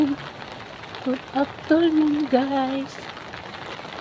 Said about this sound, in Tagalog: Naririnig niyo yung ulan. Grabe, oh. Maulan ng hapon.